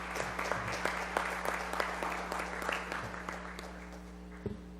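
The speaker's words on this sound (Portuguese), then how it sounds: "Palmas para a Emília" A seminar audience gives a short round of applause, a modest crowd's clapping heard at a distance over a steady electrical hum, fading slightly toward the end.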